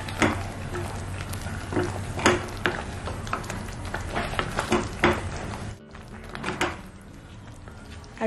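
Onion paste and spices fry in oil over a low to medium flame for a chicken curry, a steady sizzle with scraping stirs and occasional pan knocks, close by throughout.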